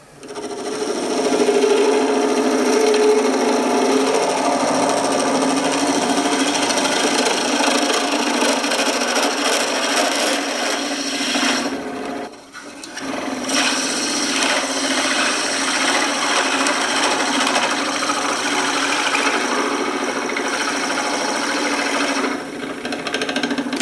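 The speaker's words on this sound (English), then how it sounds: "Now my drill bit was starting to twist on me, which tells me I'm jamming up in there with my shavings." A steady, loud grinding whir of a drill bit boring into spinning wood on a lathe, jamming with shavings, continuous with a brief dip midway.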